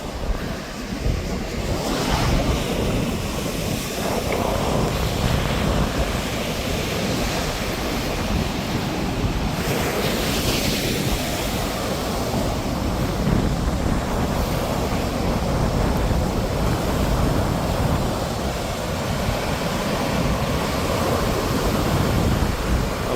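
Ocean waves surge and wash continuously while strong wind buffets the microphone at sea, a loud, roaring, unbroken wash with no talk.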